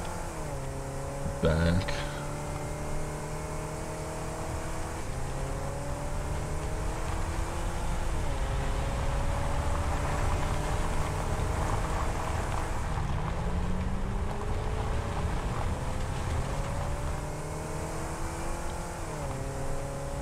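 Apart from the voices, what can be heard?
vehicle driving in the video game Satisfactory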